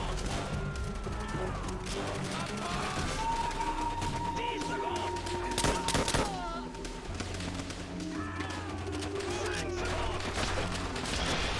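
Bursts of machine gun fire and explosive thuds in the World War II shooter Call of Duty: World at War, dense and continuous battle noise throughout with a louder crack near the middle.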